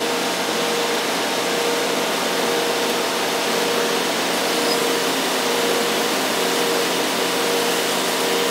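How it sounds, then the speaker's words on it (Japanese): A Super Fog Jetter SFJ-2000SP electric mist fan, spraying water droplets outdoors for cooling, blows with a loud, steady, broadband whoosh and hum that stays constant throughout, close by and without any voices. "扇風機のスイッチを入れて実演してみましょう"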